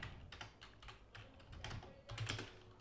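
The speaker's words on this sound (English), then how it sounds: "And then you're going to come in here and type in your name." Someone types a name on a computer keyboard, a quiet, irregular run of light key clicks with small bursts of faster taps, close and alone without talk.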